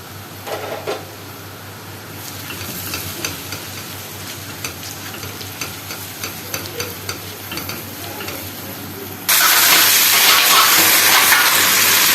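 Garlic and coriander fry in a pan for Egyptian koshari, with steady sizzling and light stirring that suddenly swells into a loud, bright hiss for the last few seconds. No voices.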